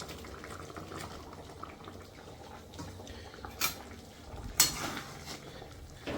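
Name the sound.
chicken pieces added to boiling chilli gravy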